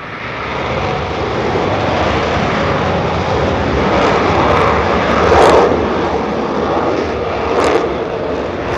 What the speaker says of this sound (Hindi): तस्वीरें इस समय आपको दिखा रहे हैं जब टेक ऑफ इस समय विमान कर चुका है राफेल, जिसमें राष्ट्रपति द्रौपदी मुर्मू